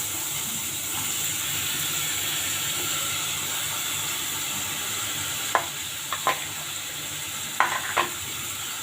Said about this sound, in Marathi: आणि वांग टाकायचं, परतून घ्यायचं।